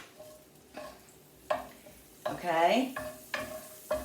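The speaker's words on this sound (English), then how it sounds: "I'm gonna put a little piece of butter in with the pineapple in the pan" Butter melts in a pan of pineapple chunks, giving a soft sizzle under a few utensil clinks and stirring scrapes, with a brief spoken word.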